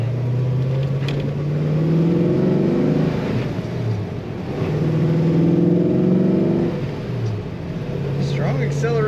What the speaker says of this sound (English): Strong acceleration from this Mopar engine.